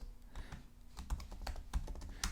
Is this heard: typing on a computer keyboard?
yes